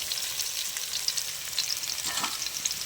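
Taro root with ginger paste frying in a pan, a steady close sizzle with scraping stirring strokes and no voices.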